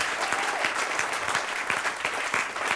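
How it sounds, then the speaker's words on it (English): Steady audience applause at a book launch event, many hands clapping together in a dense, continuous wash with no voices standing out. "You want to give the corresponding applause?"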